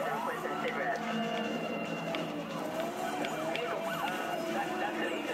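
Wailing police sirens in the Need for Speed Undercover video game, several overlapping tones rising and falling steadily over game engine and traffic noise, with a voice talking over them.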